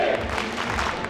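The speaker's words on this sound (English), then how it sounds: "Poland, give it up for Dream as well." Crowd applause fills a StarCraft II grand final arena at IEM Katowice in Poland, a steady, dense wash of clapping and cheering throughout the short moment.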